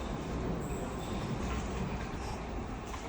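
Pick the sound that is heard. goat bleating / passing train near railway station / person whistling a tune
passing train near railway station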